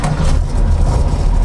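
A 1967 Porsche hot rod fitted with a Porsche exhaust system fires up and settles into a steady, low, rumbling idle, close and continuous for a brief moment.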